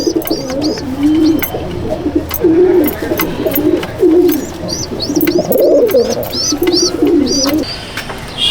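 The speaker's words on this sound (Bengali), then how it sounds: "এই এক জোড়া আপনাদেরকে পায়রা শখ করাবো" A pair of Madrasi pigeons in a loft coo loudly and repeatedly in close, rolling phrases, overlapping one another, with faint rustling behind.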